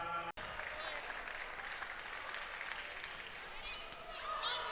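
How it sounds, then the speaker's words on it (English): Volleyball arena crowd at an Illinois match, cheering and applauding steadily after an ace, a broad roar of many voices and claps with a commentator talking over it. "Illinois crowd, once they keep scoring, getting slowly into it."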